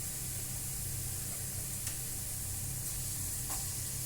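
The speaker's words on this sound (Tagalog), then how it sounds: "Pwede nang isama ng bawang." Garlic sizzles steadily in a hot pan, a continuous close frying hiss with a low hum beneath and a few faint clicks, no voices.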